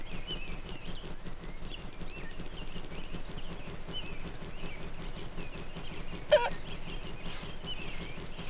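Chicken squawks in the video game My Friend Peppa Pig, repeated honking fowl calls over a steady, busy game soundtrack, with one brief sharper call near the end.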